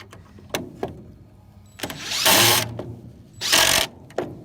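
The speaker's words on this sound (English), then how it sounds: "Now, that drill has a variable speed button on it." Variable-speed power drill used for tiny home framing: short mechanical clicks and ticks lead into two louder whirring bursts of about half a second each, close and fairly loud, with no talk.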